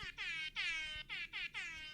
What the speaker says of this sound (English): I have an air horn app actually.